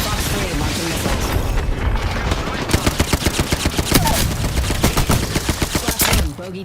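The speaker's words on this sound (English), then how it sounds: "Fox 3, launching missiles." Missiles launch amid rapid machine-gun fire in a video game, a dense roar of repeated sharp bursts in quick rhythm, loud and close, with a heavy boom-like swell before it cuts off.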